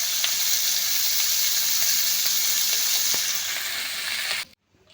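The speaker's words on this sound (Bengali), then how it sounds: "চিংড়ি মাছগুলো একটু ভালো করে লাল লাল করে ভেজে নেব উল্টে পাল্টে" Shrimp sizzle in hot oil in a pan, a steady loud frying hiss with small spits and pops throughout that cuts off abruptly near the end.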